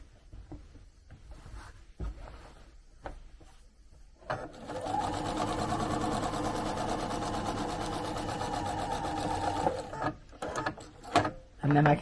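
A domestic sewing machine stitches steadily across fabric along the top of an appliqué letter J, a dense even whir running about six seconds after quiet handling noises, then stopping into small clicks and rustles.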